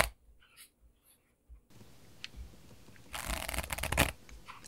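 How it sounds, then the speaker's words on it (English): Blackjack playing cards are handled close and quietly, with a few soft scratchy taps and slides, then a short, brighter riffle shuffle burst before the sound fades. "As the cards shuffle,"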